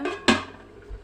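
A metal lid set onto a cooking pot while making a rice and tongue-pasta soup, one sharp clattering clank that rings briefly and fades, with faint kitchen handling before it.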